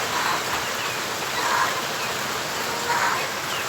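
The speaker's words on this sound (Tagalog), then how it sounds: "grabe, lakas ng ulan ngayon, oh." Heavy rain pours steadily on a small chicken farm, a dense continuous hiss with gentle swells in intensity and no other sounds standing out.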